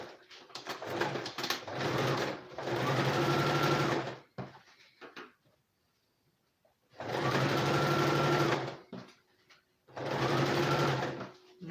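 A sewing machine stitches fabric lining in three long, steady runs of rapid mechanical whirring, separated by quiet pauses.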